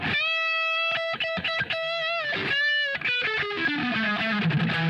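A distorted electric guitar through a strong single-coil pickup plays a bright, crunchy phrase of sustained notes and quick stabs, ending in a descending run, with no voices.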